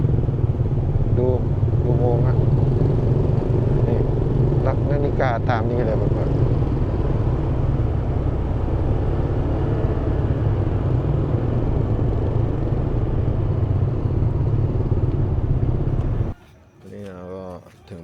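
Traffic is stuck in a jam of cars and motorcycles in Thailand, heard as a continuous close engine drone and rumble with people talking over it, cutting off sharply near the end.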